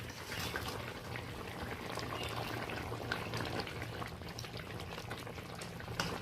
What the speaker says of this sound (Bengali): তো এই পর্যায়ে আমি ভেজে রাখা মাছগুলো অ্যাড করে দেব